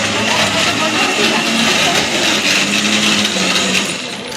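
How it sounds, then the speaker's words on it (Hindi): A mixer grinder blends tomatoes with a loud, steady whirring roar that runs throughout and eases slightly near the end. "यहाँ मिक्सी से ग्राइंडर कर रहे हैं टमाटर।"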